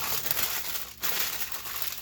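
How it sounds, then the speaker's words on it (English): Close, crackly crinkling of thin wax paper being laid over a microwave-safe container fills the moment, briefly dipping near the middle before the rustling resumes. "I'm going to cover this with some wax paper"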